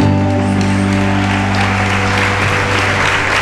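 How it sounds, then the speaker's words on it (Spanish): A church congregation applauds during a fasting and prayer service, dense clapping sustained over held musical tones from keyboard or organ, loud and continuous. "Denle un aplauso fuerte al Rey."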